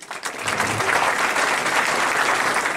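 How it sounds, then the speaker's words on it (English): Big round of audience applause at an academic welcome event honouring a guest, steady dense clapping from a hall full of people, loud and continuous for the whole few seconds. "Let us express our feelings of regards to Dr. Mahavir sir by big round of applause."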